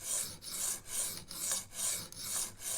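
Steel knife blade, a Rough Ryder Half Hawk, stroked across a sharpening stone with a 3D printed angle guide; a steady series of rasping scrapes, about six back-and-forth strokes, close and alone.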